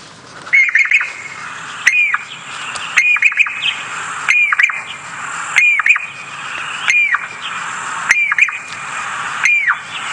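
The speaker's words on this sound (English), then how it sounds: "we're going to listen to the Jacobin cuckoo very quickly" Jacobin cuckoo calls played back from a phone bird app, a loud repeated series of sharp rising-and-falling whistled notes, about seven evenly spaced calls over ten seconds, close and clear with no talk.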